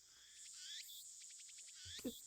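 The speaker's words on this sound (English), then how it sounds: "The only sound is the chirping of cicadas." Cicadas in the video game Steins;Gate keep up a faint, steady buzzing chirp at a distance, with no speech over it.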